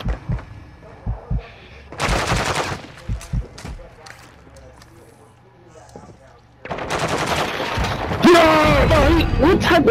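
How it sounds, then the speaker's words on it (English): Rapid video game gunfire bursts in loud clusters, with a first volley early on and a longer, denser stretch of shots near the end, while excited voices talk and shout over the action. "What type of gun is he shooting?"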